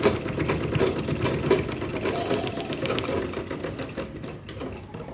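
Sewing machine running steadily for a few seconds, stitching a double lock at a seam on a homemade medical or makeup box, a loud close continuous whir with no talking.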